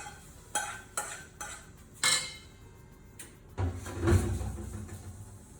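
A spoon clinks and scrapes against a bowl while mixing mashed eggplant chokha, several sharp knocks spaced out, then a longer rougher stretch of stirring and mashing, close and moderately loud.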